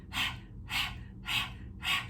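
Four forceful, even exhalations through the nose, rhythmic like a panting dog, as in yogic pumping breath during a power flow yoga class. Each sharp puff is evenly spaced, close and fairly soft, with no talking.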